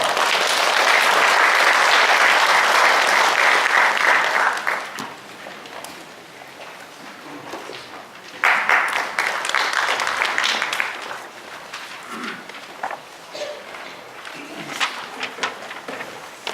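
Loud audience applause welcomes a speaker at a live urban-regeneration policy event. Dense clapping for about four seconds fades to scattered claps, then swells again before trailing into sparse, irregular claps.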